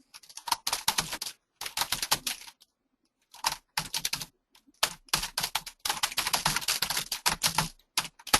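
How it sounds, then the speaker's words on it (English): Loud computer keyboard typed on in bursts of rapid clacking keystrokes, separated by short pauses, close and clear with no talking. "Sorry for my loud keyboard."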